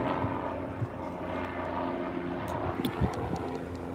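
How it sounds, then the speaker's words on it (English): A helicopter drones steadily overhead with a constant engine roar and rotor hum, with no voices, just a few sharp clicks near the end. "We got the helicopter"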